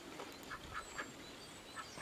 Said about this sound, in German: Da haben wir unsere Enten.